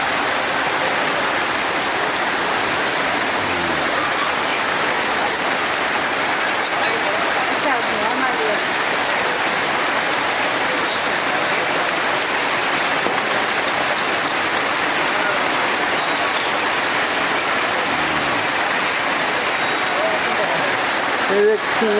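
Rain falls steadily over a rural village farm, a dense continuous hiss lasting throughout, with faint voices now and then.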